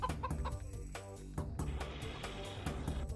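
Clucking from a chicken in the Shrek Xbox video game comes through as a series of short, choppy squawks mixed into busy game music and effects. The level is fairly faint.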